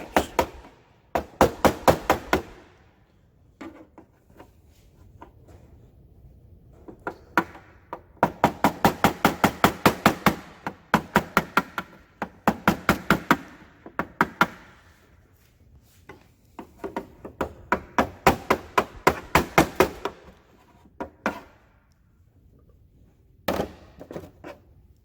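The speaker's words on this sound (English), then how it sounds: "Just light taps. I don't want to hit this very hard because it will deform the substructure." Light hammer taps on a Piper aircraft door during repair, coming in quick clustered bursts of sharp knocks separated by short pauses, close and fairly loud, with no talking.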